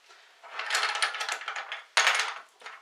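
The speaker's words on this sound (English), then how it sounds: "here's the sound of kibble." Small plastic kibble parts from a Make Toys Giant Type 61 Transformers Devastator figure rattle and clatter nearby in two loud bursts of jostling pieces, with a brief quieter shake at the end and no talk.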